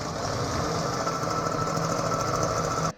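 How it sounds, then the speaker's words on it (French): A drill bores a 9 mm hole through metal while a tractor signal bar is being fabricated, a steady loud grinding whir lasting about three seconds before cutting off abruptly. "Ensuite, je vais percer en 9 pour me donner un petit peu de marge lorsque je souderai mon écrou autour."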